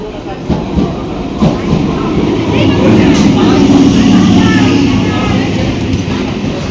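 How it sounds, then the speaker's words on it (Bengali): A train pulls in alongside a station platform, its broad low rumble and rolling rail noise swelling and holding steady close by, with people talking over it. "ট্রেন ঢুকছে"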